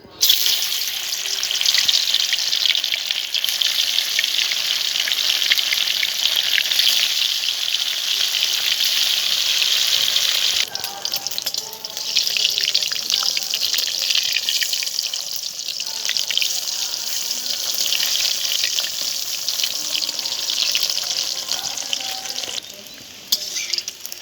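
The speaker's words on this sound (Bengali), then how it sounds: "এবার আমি ডিমগুলো ভেজে নেব।" Eggs fry in hot oil in a wok, giving a loud, steady, crackling sizzle that runs without a break for the whole stretch, with small shifts in intensity as they cook.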